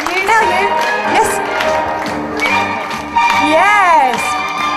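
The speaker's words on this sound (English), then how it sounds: "you will get a thunderous round of applause" Audience clapping and cheering at a Tiller Girl dance performance, a lively crowd din with shouts and whoops rising and swelling across the clip, with voices calling out over it.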